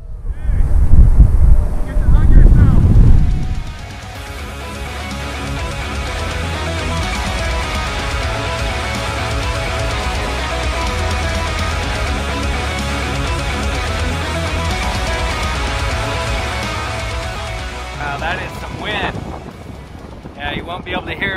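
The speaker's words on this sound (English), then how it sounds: "that is a gust. Strong wind" Strong wind roars steadily across the microphone during paramotor flight near the Great Salt Lake, Utah, for most of the clip, with heavier buffeting at the start and a brief voice near the end.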